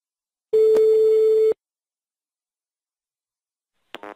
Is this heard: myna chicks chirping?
no